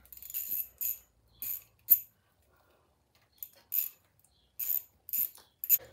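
Ratchet wrench driving bolts in on a Kohler V-twin engine, short separate bursts of quick clicking with pauses between them, close and fairly faint.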